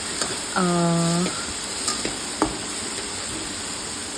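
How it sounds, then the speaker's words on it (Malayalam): Onions sizzle steadily in butter in a pan, a soft continuous frying hiss with occasional light clinks of a utensil stirring; a brief voice-like tone briefly rises over it. "ഈ ബട്ടറിലൊന്ന് ഒരു പച്ചപ്പ് മാറുന്നത് വരെ ഒന്ന് വറുത്തെടുക്കുക"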